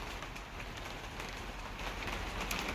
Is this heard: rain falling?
yes